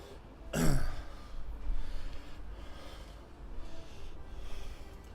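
Single short throat-clearing cough near the start, close and fairly loud, followed by quiet room noise with faint breathing.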